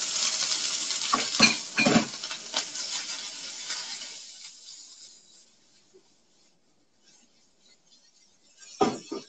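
Broccoli tossed into a pan with garlic: clattering cookware and utensil clinks over a frying sizzle, settling into quiet before a final scrape and clatter.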